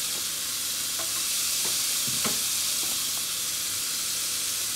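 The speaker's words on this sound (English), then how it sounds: "So now I'm going to add in my onions." Onions go into a hot frying pan for collard greens, crackling with a steady sizzle while a utensil scrapes and stirs in a few distinct strokes, close and clear with no talking.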